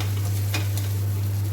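Cooked flour is stirred in a pan for a homemade drumstick (saragva) dish, giving a soft continuous scraping and faint sizzle over a steady low electrical hum, with one brief louder scrape midway.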